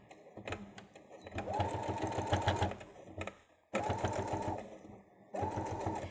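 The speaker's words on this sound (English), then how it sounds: "with a longer stitch length, just going to attach it to my fabric" A domestic sewing machine stitching fabric with a long stitch length, heard in three close bursts of rapid rhythmic clatter separated by short pauses, with light handling clicks between runs.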